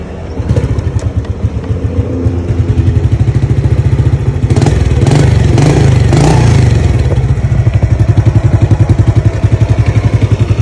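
A Honda Astra Grand motorcycle engine runs steadily up close with a loud, rapid thumping idle and a couple of brief revs in the middle, no talk over it.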